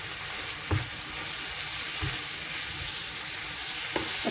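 Tandoori masala taco filling stirred and frying in a pan: a steady, dense sizzle throughout, with a few soft scrapes of a spoon at intervals.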